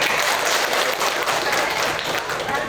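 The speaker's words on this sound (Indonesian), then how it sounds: "Oke, tepuk tangan." An audience claps steadily in a dense, continuous burst of applause at a community health cadre competition held by a district health office in Pasimasunggu Timur.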